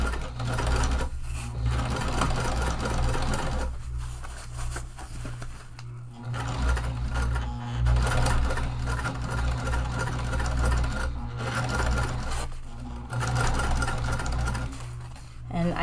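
A sewing machine top stitches a tote bag with double-sided tape beneath, running in a loud, steady mechanical whir. It pauses briefly a few times before resuming.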